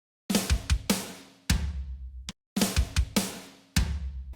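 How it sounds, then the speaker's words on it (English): MIDI drum snare flams, each a soft grace hit just before a harder main stroke, played in a short pattern of sharp, close, dry hits with decaying tails and brief gaps. "add a lighter hit before the main hit, and it'll give the effect of a flam"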